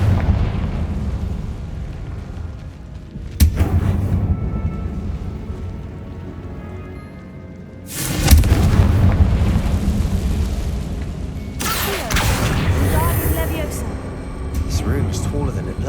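Confringo spell blasts in Hogwarts Legacy, a few loud booming explosions with crackling bursts, one short early hit and two longer eruptions later, set over a continuous game soundscape.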